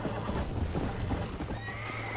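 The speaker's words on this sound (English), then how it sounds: "Why did my horse throw me down?" A horse in the Western video game Red Dead Redemption whinnies and neighs with clip-clop hooves over steady game background noise, fairly close and clear for about two seconds.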